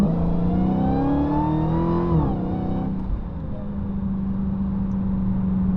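A Dodge Hellcat Redeye accelerates hard with a loud, rising supercharged engine roar through the gears, a sharp shift near the middle, then settles into a steady high drone.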